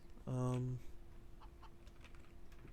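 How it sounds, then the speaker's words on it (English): A Counter-Strike chicken gives a single short, bright, tonal cluck lasting about half a second, up close and fairly loud, followed by faint game ambience. "A beautiful chicken."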